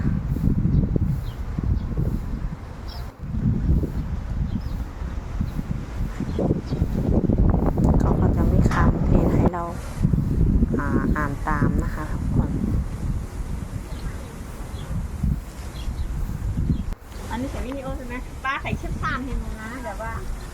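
Strong wind sweeps across Ko Loi island in Sriracha, roaring and buffeting steadily against the microphone for the whole stretch while someone talks over it.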